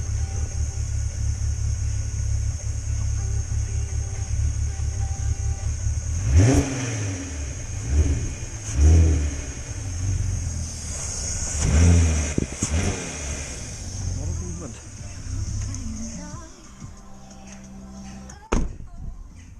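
A Mk5 Volkswagen Golf R32 engine idles with a low rumble, then revs up in several short bursts, each swelling and falling away, with a sharp knock near the end.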